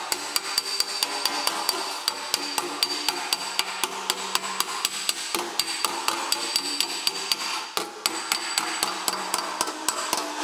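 A hammer taps lightly and rhythmically on metal to work out a ding and dent, dozens of quick, even, close strikes held with a loose grip, with a brief pause near the end and a short spoken phrase.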